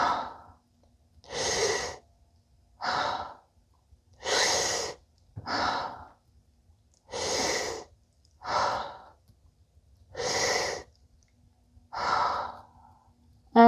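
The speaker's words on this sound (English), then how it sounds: "And then we are breathing." Slow, deep breaths during a guided fascial stretching exercise, about ten long breathy inhales and exhales alternating in an even rhythm, close and clear with quiet pauses between them and no talking.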